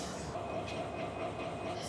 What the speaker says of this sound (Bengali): ইঞ্জিন শান্টিং করা হইতেছে